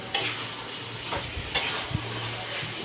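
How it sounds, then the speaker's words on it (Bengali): Lemon butter chicken sautéing in a hot pan, a loud continuous sizzle broken by a few scraping stirs of a spatula, heard up close with no talking. "চলো তুমি কষাতে থাকো"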